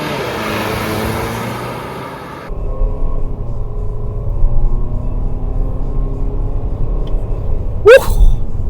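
Volvo XC90 D5, a 2017 diesel SUV, launching in a 0 to 100 km/h acceleration run: a steady low engine rumble and road noise build after a brief pause and hold throughout, with a short sharp whoosh near the end.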